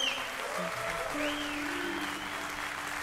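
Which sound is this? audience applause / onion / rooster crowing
audience applause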